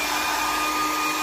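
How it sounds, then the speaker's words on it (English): A hairdryer blows steadily at close range, a loud continuous whooshing roar used for drying setting spray on a face, unbroken for the whole short stretch. "I'd use the hairdryer to dry it"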